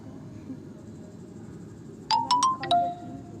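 A short electronic phone ringtone sounds for an outgoing call in a word puzzle game, a quick run of bright chiming notes that starts late and stands alone over low background hiss.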